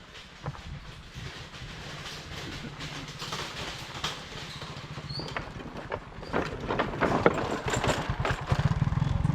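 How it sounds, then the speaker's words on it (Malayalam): A motorcycle engine rumbles steadily while a rhythmic clattering builds and grows louder as the bike rolls across a suspension bridge deck. "ഇവിടെയുള്ള ആൾക്കാർ ബൈക്ക് കൊണ്ട് തൂക്കുപാലത്തിൽ കൂടെ വരുന്നത്."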